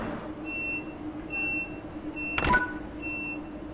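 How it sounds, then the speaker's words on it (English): Train door warning beeps sound in Train Sim World 3 as a thin, evenly spaced series of short electronic tones over a low engine hum, followed by a brief clunk as the doors shut, with no voices. "We'll close the doors and roll out."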